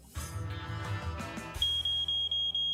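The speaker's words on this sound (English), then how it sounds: "Code 16, malfunctioning smoke detector." A malfunctioning smoke detector sounds a piercing high alarm that pulses in repeated loud beeps after a burst of low buzzing and clatter, with no talking.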